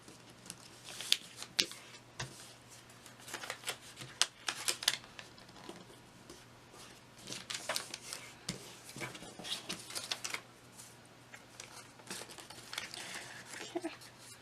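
Paper is creased and folded into an origami pumpkin, producing soft, irregular crinkles, rustles and sharp crisp taps close by in a quiet room.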